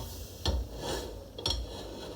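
Fried fish being moved into a cooking pot, two soft clinks of utensil against pot about a second apart, quiet and close, with no talking.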